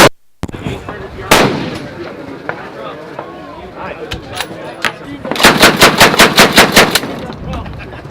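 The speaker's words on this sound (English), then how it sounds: "He's over there shooting." Gunfire on an outdoor shooting range at the SHOT Show trade event on a windy day: a single loud shot, scattered sharper reports, then a rapid burst of about a dozen evenly spaced shots, with wind noise and voices in the background.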